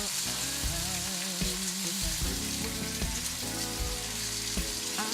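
Collard greens and vegetables sauté in a large pot with a dense, continuous sizzle and crackle throughout, over steady tonal background music, with no talking.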